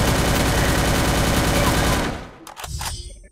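Rapid automatic gunfire in a shooting video game, a loud, dense burst of shots for about two seconds, then a few scattered, fainter shots as it tails off.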